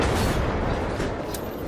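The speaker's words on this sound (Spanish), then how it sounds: "Tanque, un cañonazo, cañonazo, otro cañonazo" Tank cannon shot in Battlefield 3: a loud, dense blast with a rumbling low-end boom that fills the whole short moment and decays slowly, with no voices.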